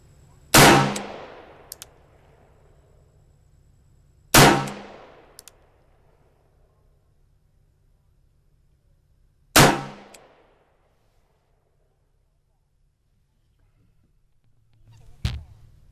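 A .45 Colt New Service revolver fires three loud, sharp shots several seconds apart outdoors, each with a short ringing decay, followed by a fainter fourth report at the end.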